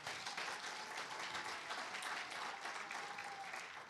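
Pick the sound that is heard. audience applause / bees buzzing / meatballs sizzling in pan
audience applause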